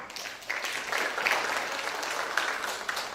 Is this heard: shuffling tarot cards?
no